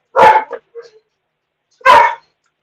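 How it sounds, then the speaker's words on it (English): A dog barks twice in short, loud, close bursts, with a softer whimpering yip between them in an otherwise quiet room; no talking. "Woof, woof, woof, woof."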